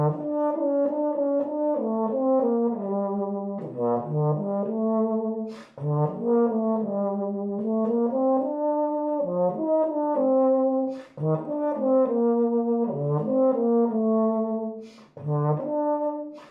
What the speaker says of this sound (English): The euphonium is known for its gorgeous singing style of melodies,